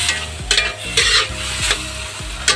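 Patola and smoked fish stirred in a frying pan, with a steady sizzle under repeated scraping strokes of a utensil against the pan, about five strokes in quick succession, close and fairly loud.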